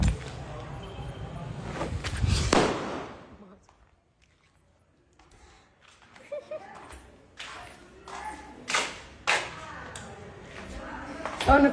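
Firecrackers burst during Dev Diwali celebrations: one loud, close crack early on, then after a quiet gap a scattered series of sharper, fainter pops and bangs.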